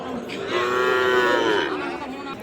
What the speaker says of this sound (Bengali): সুন্দর দুইটা লাল টকটকে কালার শাহিওয়াল ষাঁড় বাছুর